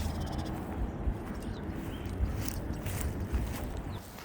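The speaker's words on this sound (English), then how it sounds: "It's a lot of birds." Many birds caw and chatter at once in a continuous, moderately distant din around an old mall, with no voices heard.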